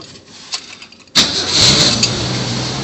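A 1966 Ford Bronco roadster engine cranks briefly, then catches and settles into a loud, steady idle close by.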